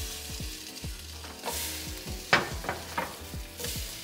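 Pancakes sizzle in a frying pan, a continuous close crackle broken by a few sharper scrapes and taps as they are flipped.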